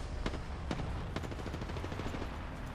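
Gunfire in the Apex Legends battle royale game: a few sharp shots near the start, then rapid bursts of automatic fire crackling on continuously and at moderate loudness over a dense background din.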